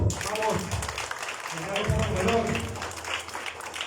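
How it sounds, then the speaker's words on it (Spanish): Supporters clap at the opening of a Unidad Popular party office, a rough, uneven patter of hands mixed with voices talking over it. "Palmas, compañeros."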